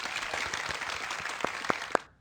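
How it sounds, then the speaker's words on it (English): A small group gives a round of applause, the dense clapping tapering off into a few last louder claps before it ends. "We should get a round of applause for that."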